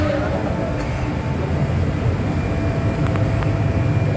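Gardner Denver screw compressor starting up, giving a steady, loud broadband mechanical roar with low rumble throughout and a few faint higher tonal whines partway through, no voices.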